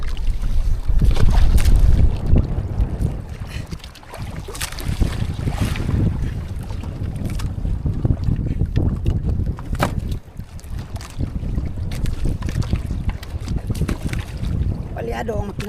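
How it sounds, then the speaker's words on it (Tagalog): A misfiring boat engine on a tuna fishing trip in the Pacific drones loudly and steadily throughout, with strong wind buffeting and rushing water on open sea. "Palyado ang makina mga amigo."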